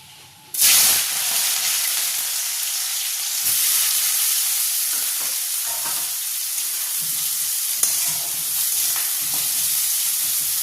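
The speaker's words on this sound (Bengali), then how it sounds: "দেখো এখানে তেলটা গরম হয়ে গেছে। এবার সবার প্রথমে কিন্তু আমি বেরেস্তাটা ভেজে নেব।" Onions frying in hot oil as beresta for biryani: a loud steady close sizzle and hiss that starts abruptly and keeps going, with faint stirring scrapes and no voices.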